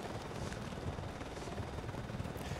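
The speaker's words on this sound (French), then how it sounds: "on va se battre contre l'hélico" Helicopter battle in the PS2 shooter Cold Winter, with a dense, steady rotor-and-engine roar filling the short stretch alongside a broad wash of noise, holding a constant loudness throughout with no voices.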